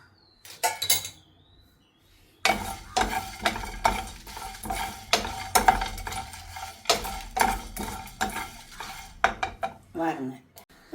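Whole spices roasting in a pan, a dry stirring and scraping with repeated clinks of a utensil against metal after a brief quiet start, close and fairly loud, in an uneven rhythm.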